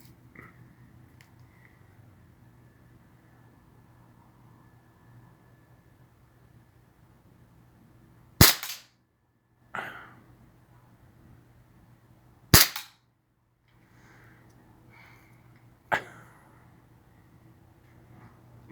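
An airsoft gun fires four sharp, loud shots at a drone, each separated by a few seconds, over quiet outdoor background noise, with no talking.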